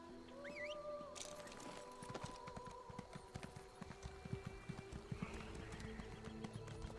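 Horse hooves clip-clop in The Elder Scrolls Online while a rider races near Davon's Watch, a steady patter of footfalls running under game music and ambient tones.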